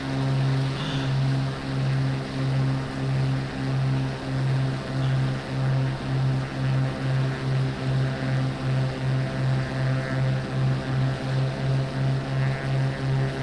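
A propeller aircraft in Microsoft Flight Simulator 2024 makes a short takeoff, its engine droning steadily with a pulsing, throbbing beat and a low hum, sustained and unbroken with no talk.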